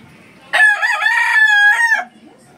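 A four-month-old gamefowl stag crows once, loud and close, a single drawn-out cock-a-doodle-doo of about a second and a half with clear harmonic ring, standing alone against a quiet background.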